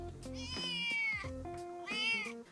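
A cat meows loudly twice, drawn-out whining cries with a short pause between them, close and clear.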